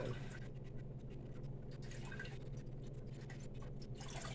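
Homemade wine poured through a coffee filter into bottles, a soft continuous trickle and gurgle of liquid filling glass, faint and close over a low background hum.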